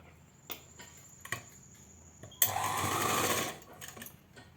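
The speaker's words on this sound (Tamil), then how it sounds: "இந்த ஓரத்துலேயே ஒரு தையல் அப்படியே ஏக ஓட்டிகிட்டு வரணும்" A sewing machine stitches along the edge of a chudithar neck in one steady run of about a second and a half, close and fairly clear, after a few light clicks and taps, with no speech.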